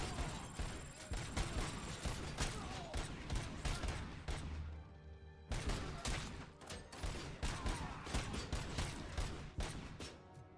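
Enemy gunfire in the shooter Robocop: Rogue City, a dense stream of rapid shots that keeps going with only a brief break midway, moderately loud and fairly close.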